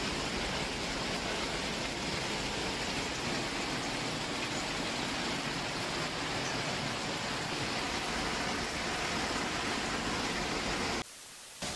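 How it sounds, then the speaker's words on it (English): Torrential rain and hail near a hotel in Germany, a dense unbroken roar of pouring water and pelting ice that stays loud throughout, then cuts off abruptly near the end. "torrential rains and hail that was recorded near a hotel in Germany"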